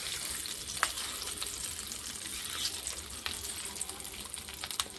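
A chutney tempering sizzles and fries softly in hot oil, a steady crackle with scattered small pops, fairly faint and alone.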